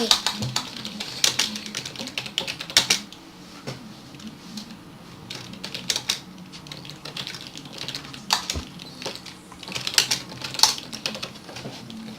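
Typing on a computer keyboard: irregular bursts of clicking keystrokes, fairly close, running throughout beneath people talking.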